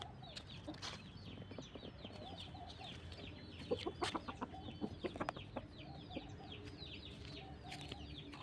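Hens and a rooster cluck and call intermittently around a backyard poultry pen, the short bird calls repeating close by over steady farmyard background noise, with no talk.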